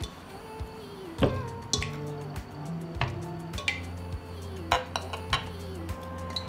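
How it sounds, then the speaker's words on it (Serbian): Glass jars clinking and knocking as they are set into a cooking pot lined with a cloth, with a series of close hard taps and rattles spread across the clip, no talking. "na dno ću staviti krpu i unutra ću poređati tegle"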